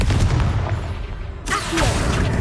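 A Confringo fire spell explosion in the video game Hogwarts Legacy, a booming burst that cuts in abruptly midway and carries on loud beneath continuous game noise.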